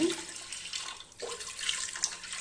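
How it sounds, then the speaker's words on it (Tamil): Water runs and splashes steadily into a pot of dal for cooking, a close continuous pour with a brief dip midway and no talking. "பருப்பு முழுகிற அளவுக்கு தண்ணி வச்சுக்கலாங்க"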